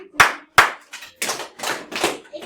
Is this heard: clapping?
yes